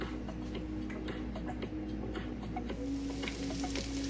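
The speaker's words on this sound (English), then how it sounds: "Now that it's starting to sizzle, you're gonna want to just keep moving around so they don't burn" Beef fajitas sizzle in a pan with a steady crackling hiss and scattered ticking pops, with faint clinks as the meat is stirred and tossed, close and unaccompanied by talk.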